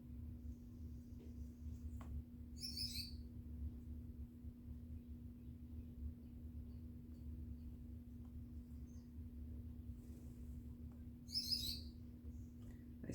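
A pet bird chirps in two short, bright bursts several seconds apart, fairly faint over a steady low electrical hum, with no one talking.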